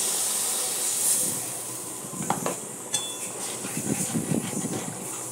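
Water poured into a hot pan of frying spices for a Bengali begun bahar, a loud sustained hiss that slowly fades into bubbling sizzle with a few utensil clinks.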